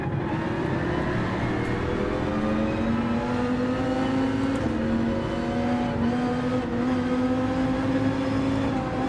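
A Dodge Viper GTS-R race car engine in the video game Gran Turismo 7 drones loudly and continuously, its pitch slowly rising and falling as the motor revs through gears, with no voices.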